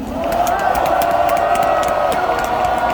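Rally crowd applauding and cheering, a dense, steady wash of clapping and voices throughout, loud and close.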